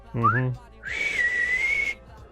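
A short rising whistled chirp, then a long steady high whistle held for about a second, a person imitating a signal whistle from The Last of Us Part II.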